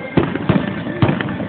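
Fireworks bursting somewhere outside during a Fourth of July night at Disney World, several dull booms landing irregularly over a steady background murmur.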